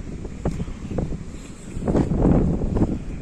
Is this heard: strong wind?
yes